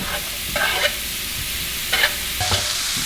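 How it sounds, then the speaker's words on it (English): Garlic and onion fry in a hot pan with a steady sizzle, broken by a few scraping stirs of a utensil, close and fairly loud, with no one talking. "Let all that simmer down. Got garlic and onion going in."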